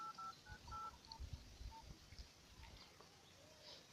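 A phone is dialed, a quick series of short electronic keypad tones playing alone over faint background noise.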